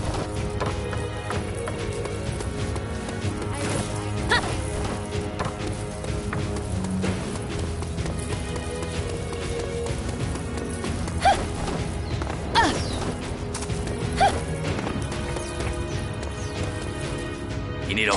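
Steady clip-clop of horse hooves at a trot in the video game Dynasty Warriors 9, with occasional sharper hoof impacts, heard over continuous game music and ambience.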